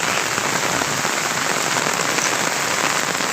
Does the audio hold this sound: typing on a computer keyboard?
no